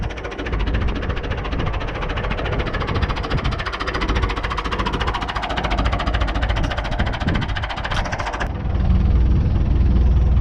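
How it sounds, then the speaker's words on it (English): An old David Brown 996 tractor engine runs steadily with a rough, rhythmic chugging and rattling, loud and close, its note dropping slightly near the end. "Engine sounds nice."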